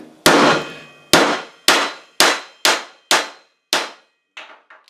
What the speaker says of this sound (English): Get you a big heavy hammer.